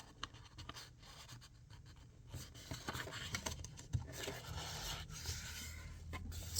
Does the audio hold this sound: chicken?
no